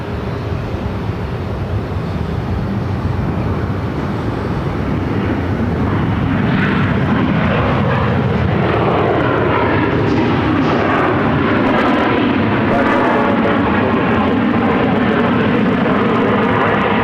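A Southwest Boeing 737 MAX 8 landing at Phoenix airport, arriving from Albuquerque, gives a loud, steady jet roar that swells and stays close throughout, with no voices over it.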